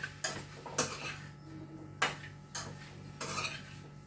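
Spicy chicken fry being stirred in a cooking pan, with several sharp scraping clinks of a utensil against the metal spaced about a second apart over a faint background hum.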